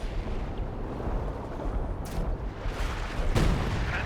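Artillery in Company of Heroes 2 fires in a dense battle soundscape, with a rumbling, continuous roar of distant booms and blasts and a stronger impact near the end.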